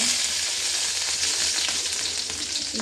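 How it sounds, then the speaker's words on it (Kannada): Chana dal (split chickpeas) fries in hot oil with mustard seeds for a vegetable sambar, giving a steady, dense crackling sizzle that holds at an even level throughout, close by, with no voices. "ಕಡಲೆಬೇಳೆ ಹಾಕಿ ಚೆನ್ನಾಗಿ ಫ್ರೈ ಮಾಡುವ"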